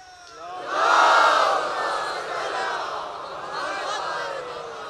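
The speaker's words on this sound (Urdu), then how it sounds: "یہ جو ہم نعرے لگاتے ہیں نا" Large crowd at a religious procession shouting slogans in unison, a loud collective roar swelling after a quiet start and then holding steady at a somewhat lower level, with raised voices throughout.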